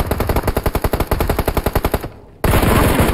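Automatic gunfire in PUBG on the Sanhok map: a loud, rapid, evenly spaced string of some twenty shots, a brief lull, then another dense burst.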